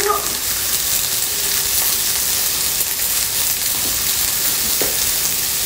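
Rabbit pieces browning with rosemary in a hot pan, a dense steady sizzle and crackle with a few sharper pops of spattering fat, loud and close with no talking.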